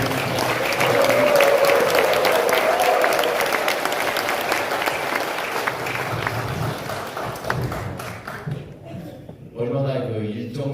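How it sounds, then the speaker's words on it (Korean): Big, sustained crowd applause fills a Korean campaign candidates' speech event, loud and dense with some voices and cheers mixed in, thinning and fading out near the end. "크게 격려의 박수 부탁드립니다"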